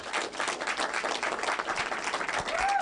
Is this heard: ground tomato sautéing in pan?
no